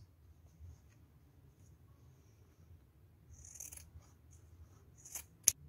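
Scissors snip through fabric lining of a polyester crochet bag, a few quiet close cuts toward the end with a sharp final snip, over faint low background hum.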